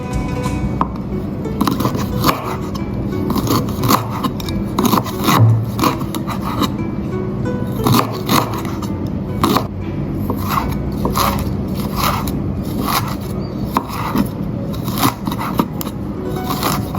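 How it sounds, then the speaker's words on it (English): A knife slicing fresh ginger on a wooden board, a close, brisk series of repeated cutting strokes and rasping chops at an even rhythm, with no talking. "Sliced ginger."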